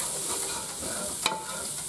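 Seasoned ground meat sizzles and fries in a pan for taco soup while a spoon stirs it through, a soft steady hiss broken by a single sharp scrape near the middle.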